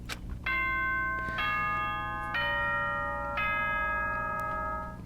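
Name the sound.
school announcement chime in video game Danganronpa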